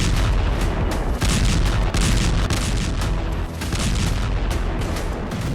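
Several heavy explosions from a Russian missile strike on Dnipro, Ukraine, merge into a dense, continuous roar of booms and rumbling blasts that stays loud throughout.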